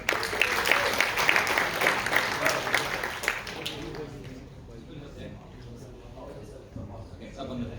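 Audience at a university entrepreneur showcase event clapping for a speaker, a dense burst of applause that fades after a few seconds into murmuring room noise.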